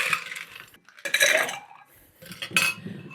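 Small ice cubes tumbling into a cocktail mixing glass in two clattering bursts, bright and close with glassy clinks, a short quiet gap between scoops and no voices.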